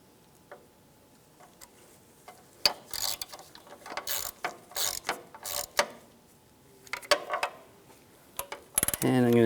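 Ratchet tightening screws on a 4WD actuator of a 2002-2009 Chevrolet Trailblazer, heard as close, sharp clicking bursts in irregular runs that grow busier toward the end, no talking.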